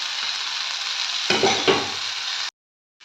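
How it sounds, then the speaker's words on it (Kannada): Masala spices and coriander leaves fry in a pan with a dense, steady sizzle, a short burst of stirring near the middle, then an abrupt cut to silence. "ಸ್ವಲ್ಪ ಮಸಾಲ ಐಟಮ್ಸ್ ತೊಗೊಂಡಿದ್ವಲ್ಲ ಅದನ್ನು ಹಾಕ್ಬಿಟ್ಟು ಫ್ರೈ ಮಾಡ್ಕೊಳ್ಳೋಣ"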